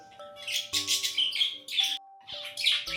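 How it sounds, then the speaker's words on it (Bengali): Sparrows chirp and tweet in quick bursts, several calls overlapping, fairly close, with brief pauses between flurries, in Shillong. "এদের এই কিচিরমিচির ডাক এত মিষ্টি লাগে শুনতে"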